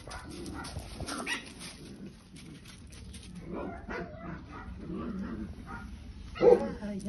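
A dog whines and whimpers softly in a room with a few short yips, broken squeaky cries rising to a louder burst near the end.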